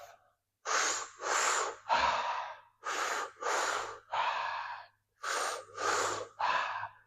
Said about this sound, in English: you can increase the speed in the rhythm of the breath